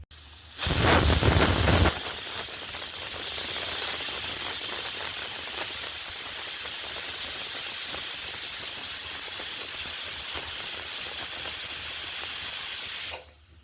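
A pressure cooker on a stove cooking rice for mutton biryani lets off its whistle, a loud, steady hiss of escaping steam that starts with a brief louder burst and runs alone for about twelve seconds before cutting off.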